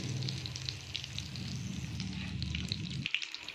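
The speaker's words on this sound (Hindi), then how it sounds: "भल करी टिके फ्राई करबे इटा के ना तो फाटी जिबा।" Manda pitha, an Odisha sweet dumpling, fry in a hot pan, giving a steady, close, even sizzle and crackle that carries on without a break and drops off sharply near the end.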